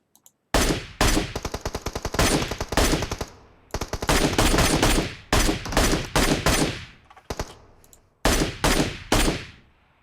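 Automatic gunfire in the video game PUBG Mobile, long loud rapid-fire bursts separated by short gaps, with a few single shots at the start and no talking.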